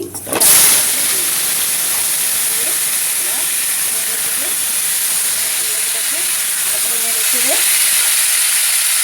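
Panch phoron spices sizzle and fry in hot oil for a wax gourd curry, a steady close, loud crackling hiss that starts abruptly and continues throughout, with faint clinks and stirring underneath.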